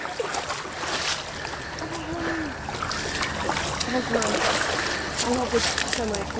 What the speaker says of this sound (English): We got to walk through the water to get to the bridge, and then ride off the bridge back into the water.